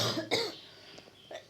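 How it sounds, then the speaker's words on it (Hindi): A single sharp cough near the start, followed by a few fainter throat noises, from a chemistry teacher who has a lingering cough during an indoor lesson. "सॉरी कि खांसी जो है ना अभी तक मेरी रुकी नहीं है"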